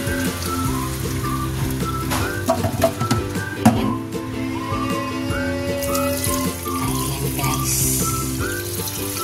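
Chicken feet are washed under a running tap, with steady splashing and trickling water and intermittent clinks as the feet are handled in a sink, fairly close and continuous throughout.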